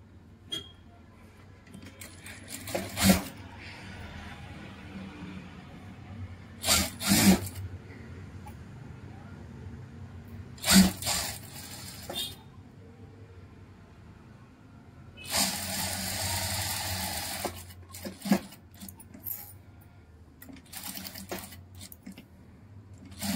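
A sewing machine stitches lace onto fabric in several short bursts, each a second or two of close mechanical whirring, with one longer run near the end and quiet handling noises in between.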